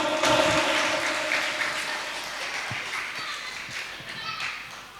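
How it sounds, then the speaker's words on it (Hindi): Hearty audience clapping at an Indian felicitation ceremony honouring a harmonica player. It starts strong and gradually tapers, with scattered voices and children's chatter mixed in. "जोरदार तालियां दोस्तों।"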